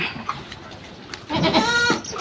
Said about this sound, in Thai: อันนี้คอกแพะด้วยพี่น้อง